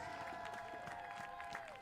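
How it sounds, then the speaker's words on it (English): Crowd applause at the Snow Polo World Cup in St. Moritz, faint and distant, a steady patter of many hands clapping outdoors on snow, with a sustained tone running beneath it. "Give her a round of applause, Lydia Gauss."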